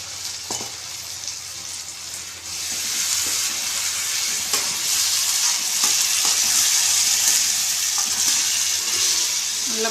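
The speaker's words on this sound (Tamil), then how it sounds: "நல்லா வதங்கிட்டுருக்கு" Onion, garlic and tomato paste frying in a pan, a loud, steady hiss of sizzling that grows stronger after a couple of seconds, with faint stirring clinks and no talk.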